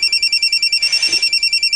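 A cellphone rings with a rapid, steady electronic tone pulsing about eight times per second, clear and fairly close, with no talk over it.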